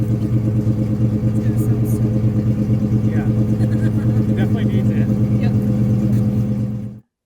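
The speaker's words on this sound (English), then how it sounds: "It's got BBK shorty headers, BBK exhaust with an H pipe, and then Flowmaster mufflers on it." An SN95 Ford Mustang Cobra fitted with BBK shorty headers, BBK H-pipe exhaust and Flowmaster mufflers idles with a deep, throbbing rumble, loud and close, in a steady lumpy rhythm before cutting off abruptly.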